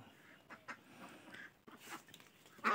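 Five-month-old ducks quack faintly in a few short scattered bursts, the loudest call near the end, with no talking.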